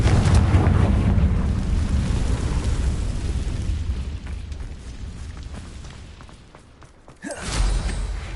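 A Confringo fire spell in Hogwarts Legacy goes off as a deep, booming blast with low rumble that swells and fades, then a sharp second burst near the end; no voices.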